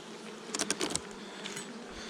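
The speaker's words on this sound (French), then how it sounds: "ce rucher, on n'est pas sur de la douceur, c'est de l'abeille à miel là" Honey bees buzzing around hives at an apiary, a steady close droning swarm with several louder passes of individual bees near the listener.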